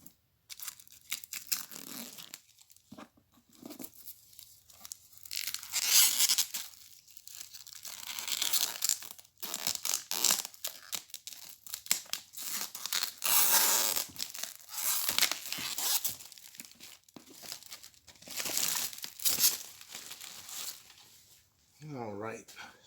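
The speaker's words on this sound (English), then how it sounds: "let's tear the shrink off this and see what we get in the box" Plastic shrink wrap tears and crinkles as it is stripped off a boxed GMT board game, bursts of ripping and rustling running throughout with brief pauses between pulls.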